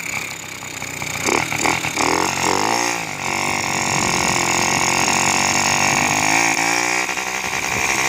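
Small Yamaha Chappy moped engine running steadily while ridden down a street, a continuous loud buzzing drone that rises and settles as the throttle changes, with no talk over it.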